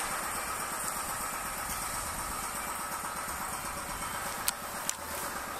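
A Yamaha XJR400 air-cooled four-cylinder motorcycle with an owner-modified RPM-style exhaust idles steadily at close range, a low even burble with two brief sharp ticks near the end.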